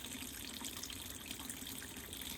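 A BLACK+DECKER portable washer drains dirty water into a bucket, making a faint, steady rushing trickle that runs unbroken throughout.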